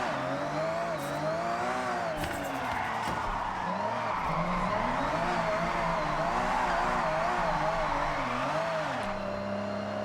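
A car drifts through corners in the Forza Horizon racing game, driven on a wheel, its engine droning and rising in pitch with a steady tire skid running underneath, loud and continuous for the whole stretch, with talk over it.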